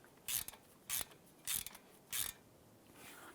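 A socket ratchet tightens a bolt on a 2012-2017 Toyota Camry during a wheel hub replacement, four short clicking bursts in a steady rhythm, close and fairly quiet.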